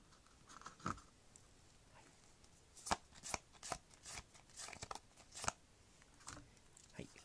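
Tarot cards are shuffled by hand in a quiet room, giving soft, irregular riffling snaps and slides, faint and close, with short pauses between bursts.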